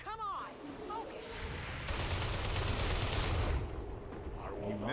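Gunfire in the XCOM 2 strategy video game: a rapid burst of repeated shots rings out in the middle of the clip over a busy game soundscape, with a voice talking faintly underneath.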